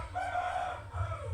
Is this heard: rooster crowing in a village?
yes